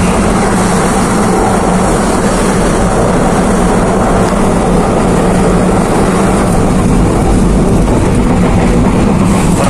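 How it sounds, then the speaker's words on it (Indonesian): The Penataran passenger train arriving at Porong station, a loud, constant roar of rolling wheels and rumbling carriages heard close, as if from on board, steady throughout with no talking. "Perjalanan saya naik kereta api Penataran tiba di stasiun Porong"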